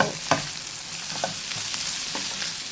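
Fried rice with pork sausage and fresh chili is stir-fried in a pan, with a steady sizzle and repeated scraping strokes of the spatula, close and loud.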